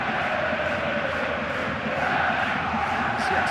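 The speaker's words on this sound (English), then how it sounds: "But listen to the effect it's had on the crowd" A Premier League football stadium crowd at Middlesbrough vs Tottenham Hotspur reacts to a substitute with a dense, steady roar of many voices that holds at an even level throughout.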